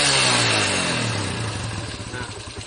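A Yamaha Vega R motorcycle engine, just back from an ignition repair, revs loud and close, then eases down into a steady, slightly uneven idle with no break in firing.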